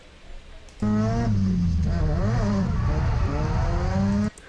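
A Mazda RX7 FD3S drifts through a third-gear sweeper on a drift track, its rotary engine holding a loud, sustained, wavering high-rev howl with shifting pitch for several seconds before dropping away.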